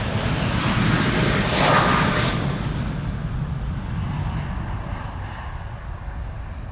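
A ten-year-old TUI jet departing Amsterdam Schiphol for Bonaire gives a broad, loud engine roar that peaks early and slowly fades as it pulls away, with no talk.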